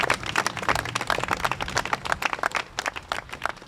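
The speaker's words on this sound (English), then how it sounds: "please give yourselves a round of applause" Steady round of applause from a crowd at a live press event, many hands clapping densely and evenly throughout, loud and close.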